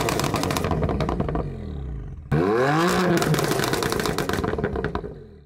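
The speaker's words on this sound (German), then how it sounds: "Das ist ein geiler Sound, den der M4 hat, ne?" A BMW M4 engine roars and revs hard, rising in pitch with a sharp burst midway, loud and close, with crackling exhaust pops.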